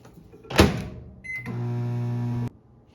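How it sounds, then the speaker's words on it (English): A microwave oven door clunks shut, a few beeps sound, then the oven hums steadily for about a second before stopping, heating chocolate and butter for melting; close and clear in a quiet kitchen. "So I'm going to stick this in the microwave, and I'm going to do it on intervals of about 30 seconds"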